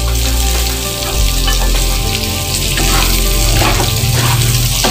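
Chopped chayote and other firm vegetables for chopsuey sauté in a hot pan, giving a loud, continuous sizzle with occasional stirring scrapes.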